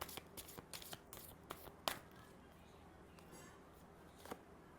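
Tarot cards being shuffled and drawn by hand, a soft run of quick papery flicks and taps in the first two seconds, then a sharper slap and sparse light card sounds in a quiet room.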